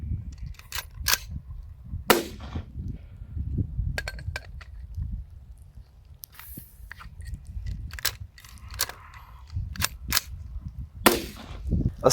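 Can cannon launcher rounds fire at a distance for a smoke mission, a series of sharp, irregular pops and cracks spread over several seconds against low rumbling background noise.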